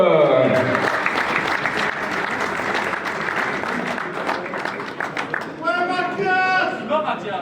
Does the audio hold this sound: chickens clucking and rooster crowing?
no